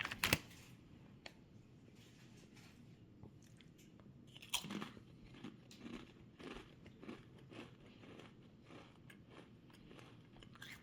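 Lay's Hot and Sweet Chilli potato chips are crunched up close, with a sharp bite at the start followed by quiet, steady chewing crackles, faint overall and with no talking.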